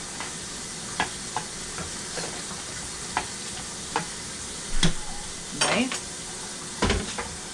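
Canned corned beef frying in a pan, a soft steady sizzle under occasional scrapes and taps of a spoon stirring, with a few louder knocks against the pan; a voice speaks briefly.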